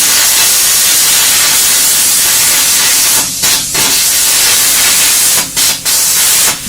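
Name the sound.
cutter cutting through engine bay sheet metal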